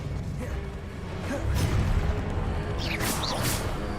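Spell casts from Hogwarts Legacy, a Depulso followed by an Expelliarmus, heard as brief whooshing bursts with bright crackling flares over a dense, steady rumble of game ambience.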